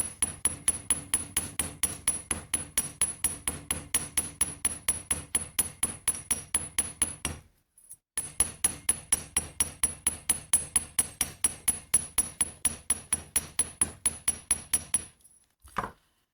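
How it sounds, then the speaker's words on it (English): Rapid, steady hammer blows on copper, ringing metallic strikes in a regular rhythm, pausing briefly midway before continuing, then a final few taps. "first bit of hammering"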